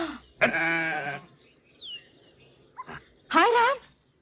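Goat bleating in a Hindi short film, a few loud wavering cries at close range separated by brief pauses, with faint background rustling between calls.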